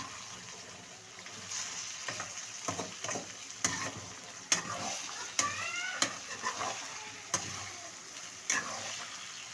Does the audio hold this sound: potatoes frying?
yes